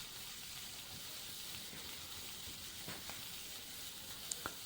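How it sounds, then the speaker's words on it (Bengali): Boiled jackfruit pieces seasoned with salt and turmeric shallow fry in mustard oil, giving a soft, steady sizzle with a few faint clicks and pops. "এগুলোকেও হালকা করে শ্যালো ফ্রাই করে নেব।"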